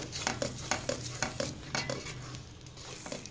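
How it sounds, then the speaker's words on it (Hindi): Makhandi halwa cooked with ghee over a low flame, stirred in steady, evenly spaced strokes of a spoon scraping the pan, with a faint sizzle underneath and no talking. "फ्लेम इसके नीचे हम लो ही रखेंगे और इसको हम तब तक हिलाएंगे तब जब तक इसका घी अलग से ना हो जाए"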